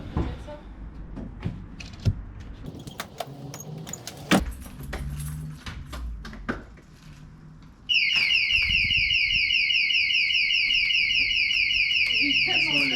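A car alarm bursts on abruptly after a stretch of rustling, handling noises and muffled voices, then blares loud and close as a steady, rapidly repeating electronic warble to the end.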